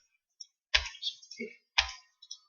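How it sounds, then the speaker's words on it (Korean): A few sharp plastic clicks on a computer keyboard as the delete key is pressed while working in SketchUp 2016, close and isolated with silence between the taps. "클릭한 상태에서 키보드의 딜리트 버튼을 누릅니다."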